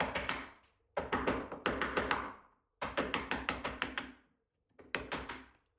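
Sharp repeated chisel strikes cut notches into a wooden boat batten, each a crisp, close knock in quick rhythmic runs of four to six blows separated by short pauses.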